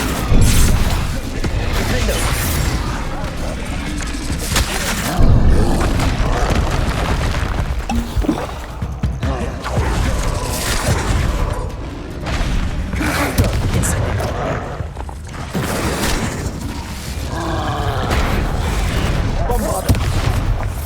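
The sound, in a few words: spell explosions (Confringo, Bombarda) in video game Hogwarts Legacy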